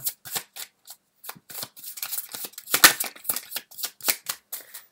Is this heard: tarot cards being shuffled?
yes